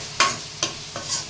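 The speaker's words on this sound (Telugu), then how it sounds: "తర్వాత టమోటా వేసి ఫ్రై చేసుకోవాలి." Tomatoes stir-frying in a pan for a Telugu chicken curry, three distinct scraping stir strokes with a soft sizzle between them, close and fairly loud with no voices.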